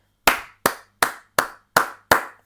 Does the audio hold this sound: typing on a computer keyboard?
no